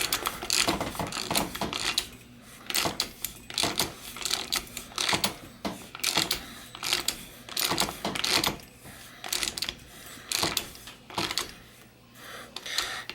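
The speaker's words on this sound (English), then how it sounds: "use my wrench and start tightening it in" A wrench is worked on a sealed cartridge bottom bracket of a bicycle, giving a long run of repeated ratcheting clicks in quick irregular bursts, close and fairly clear with no talk.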